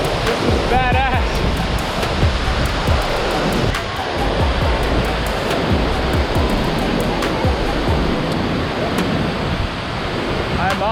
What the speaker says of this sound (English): The waterfalls in the center of Jajce are said to be one of the 12 most beautiful waterfalls in the world